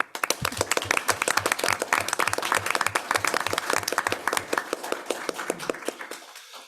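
Audience clapping for volunteers at a city council meeting, a fairly close crowd beating out a slightly rhythmic, thick patter of claps that thins and fades out near the end.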